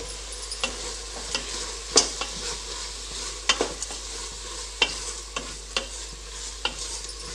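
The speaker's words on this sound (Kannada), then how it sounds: "ಉಪ್ಪು ಮಸಾಲೆ ಹಾಕಿದ ಮೇಲೆ ಮತ್ತೆ ಒಂದು ಸರಿ ಚೆನ್ನಾಗಿ ಮಿಕ್ಸ್ ಮಾಡ್ಕೊಳ್ಳಿ" Masala and salt are stirred into a sizzling cooking pan, the spoon scraping in sharp, irregular strokes over a steady low frying hiss.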